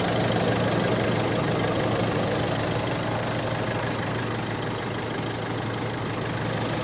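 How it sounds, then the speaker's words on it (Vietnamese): A 2018 Nissan Navara pickup with a diesel engine and automatic transmission idles steadily, giving a constant, close, even rumble with a light ticking texture and no breaks or revving. "Đây là tiếng động cơ đang hoạt động đối với chị đây."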